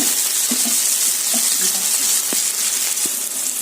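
Chopped tomatoes fry in a pan while egg rice is being cooked, making a continuous close sizzle with occasional faint stirring clicks and no voices.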